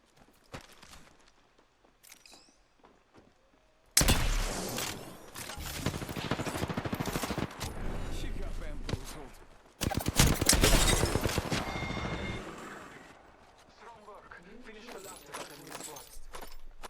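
Apex Legends gunfire during a close fight rings out in dense, rapid bursts of shots and impacts, loud and sustained over several seconds, easing off briefly before another heavy burst and then fading to scattered game sounds.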